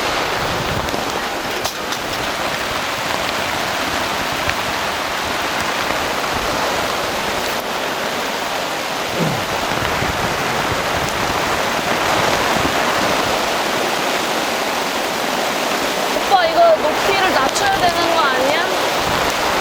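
Heavy rain pours on a campsite during a downpour, a dense continuous hiss and drumming of drops on surfaces that fills the whole stretch, with muffled voices faintly underneath.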